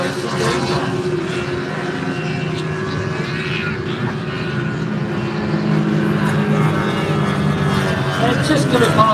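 Racing powerboats, including a white Banshee, passing on the water with a sustained droning engine roar that swells gradually louder, while a commentator talks over it.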